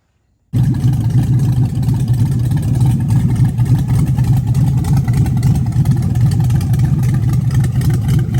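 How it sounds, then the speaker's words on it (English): A '32 Ford Roadster hot rod fitted with lake pipe headers fires up after a moment of silence, then runs loud and close with a steady, rough, throbbing idle. "Sounds like a dragster"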